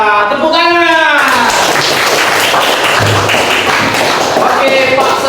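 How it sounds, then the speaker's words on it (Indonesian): Children in an Indonesian classroom clap together after a correct answer during a lesson on the Putri Komodo legend; a dense, loud burst of applause fills the room, mixed with voices speaking over it. "Alhamdulillah, tepuk tangan."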